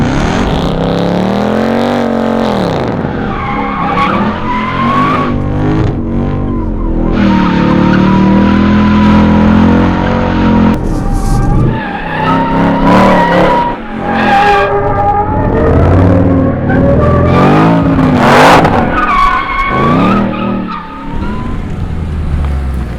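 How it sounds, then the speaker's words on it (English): A Hennessey Heritage Edition Mustang roars through a burnout, its engine revving hard and rising and falling in pitch while the rear tires squeal and skid continuously, loud and close. "You want to do a smoke show?"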